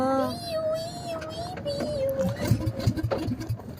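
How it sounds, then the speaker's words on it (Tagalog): A boat motor running during island hopping off Masasa Beach in Tingloy, Batangas, a steady engine drone with rising, uneven chugging, close by, with people talking over it. "Yan, umaandar na ang ating motor"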